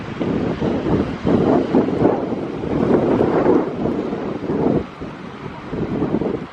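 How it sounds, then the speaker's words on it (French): Strong gusting wind on the Irish seaside coast buffets the microphone in heavy, rolling roars that rise and fall, with no voices. "il y a un vent incroyable"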